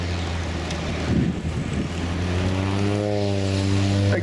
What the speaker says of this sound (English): Again, all of these maneuvers demonstrate the safety measures of this cargo utility aircraft.